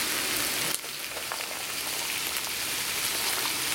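Sliced carrots hit hot fat in a Dutch oven with a sudden crackle, then settle into a steady, close, dense sizzle; no talking.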